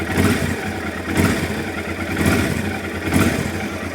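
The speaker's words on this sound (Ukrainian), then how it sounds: "моторчик звучить як новий" A Honda Transalp 600 motorcycle engine runs steadily nearby after a rebuild, a rough rumbling drone with slight periodic surges in loudness and no voices.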